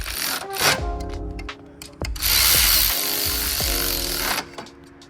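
A ratchet tightens the clamp on a 3-inch aftermarket intake in an Infiniti Q60 Red Sport engine bay, giving bursts of quick clicking and mechanical whirring broken by sharp knocks and brief pauses, close and moderately loud.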